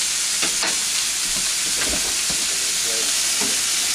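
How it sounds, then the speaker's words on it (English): Meat sears in olive oil in a pan, making a loud steady sizzling hiss that fills the sound throughout, with faint scrapes and stirring knocks underneath. "we're just going to sear those up in a little bit of olive oil"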